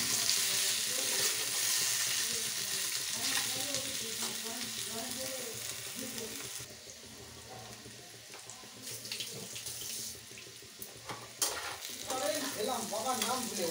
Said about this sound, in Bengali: জিরের তেলটা দিয়েছি, আলুটাকে বেশ করে একটু ভেজে নিতে হবে।